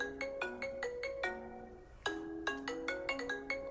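An iPhone 6 ringtone plays as a bright, bell-like marimba melody of quick plucked notes in a repeating rhythmic pattern, clear and alone.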